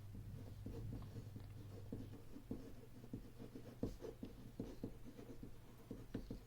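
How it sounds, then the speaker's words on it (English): Pen scratching across paper in quick, irregular strokes and taps over a steady low hum, close and fairly quiet, with no voices. "I'm just gonna write it straight because in previous videos my paper was like wonky"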